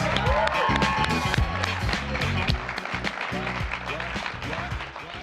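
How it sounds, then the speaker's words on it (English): Steady applause from an audience at a poetry recitation event, a dense wash of clapping that carries on without pause, with some voices mixed in. "Get another round of applause for Lauren May, please."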